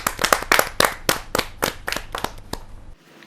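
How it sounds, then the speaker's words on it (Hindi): Scattered applause from a small audience at a Hindi poetry recital (kavi sammelan), a dozen or so distinct, sharp hand claps in an uneven rhythm that thins out and stops. "आपकी जोरदार तालियां मिले"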